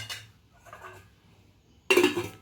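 A metal lid clanks onto a cooking pot after mixing sajje rotti dough on a switched-off stove, one sharp loud clatter near the end, preceded by faint scraping and quiet kitchen clinks.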